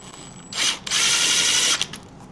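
A power driver zips screws into a Pin It racing TPI/TBI end cap, with two loud close bursts of whirring, the second longer, then a brief click.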